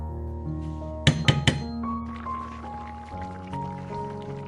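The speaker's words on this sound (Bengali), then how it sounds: "সামান্য একটুখানি জল দিলাম" A little water poured into chili chicken cooking in a pan gives a quick cluster of sharp splashes and hissing, followed by a softer, continuing sizzle at low volume.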